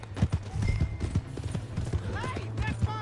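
A horse gallops in Red Dead Redemption 2, with rapid rhythmic hoofbeats up close and a brief whinny near the end, under voices talking.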